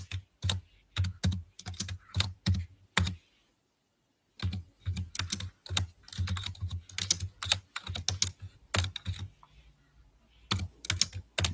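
Quick clicking keystrokes on a computer keyboard in irregular bursts, with a brief pause in the middle before typing resumes, close and fairly quiet with no voices.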